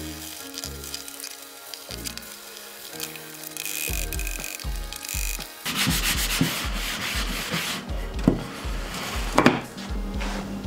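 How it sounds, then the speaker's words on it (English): Light sanding of small wooden pieces for a custom Navy shadow box produces close, rhythmic rubbing strokes, sparse and soft at first, then quicker and denser scratchy passes with a few sharper knocks, no talking. "I'm going to give these a light sanding"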